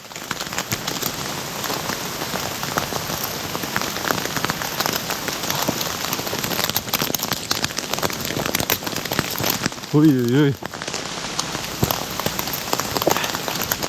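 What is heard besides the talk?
hail and rain pelting a tent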